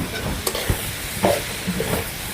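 Bottle gourd curry with turmeric and salt being stirred in a pot over a wood-fired stove, giving soft scraping and stirring scrapes over a low background sizzle, a few clearer strokes at irregular intervals.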